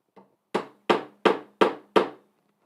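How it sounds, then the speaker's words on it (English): A brass mallet strikes a carving chisel during woodcarving in a workshop, giving one soft tap and then five firm, evenly spaced knocks, each with a short woody decay, close and alone with no talk. "It's just the brass mallet, but I feel I have a lot of control."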